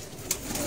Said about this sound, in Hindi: परवाजी कबूतर है।